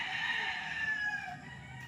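Gamecock crowing at a training farm near Nagcarlan: one sustained call, moderately loud and nearby, fading toward the end with no talking.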